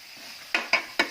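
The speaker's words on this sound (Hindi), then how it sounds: "गैस बिल्कुल सिम पे कर देंगे और इसमें अब ये सेम और आलू की भी डाल देंगे।" Three quick metallic clinks of a utensil against a pan as beans and potatoes go into frying spices, close and distinct over a soft sizzle.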